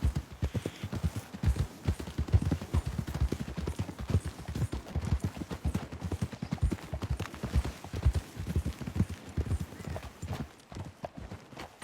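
Horses trot in Red Dead Redemption 2, a dense, steady clip-clop of hooves close by that runs throughout and carries a few faint snorts.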